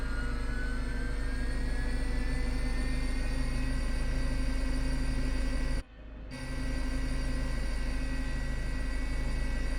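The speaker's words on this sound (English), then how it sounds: "So let's go ahead and get the right engine started." The right jet engine of a HondaJet HA240 whines steadily at a high, loud level in Microsoft Flight Simulator 2020, with a sharp brief dropout near the middle before the tone resumes.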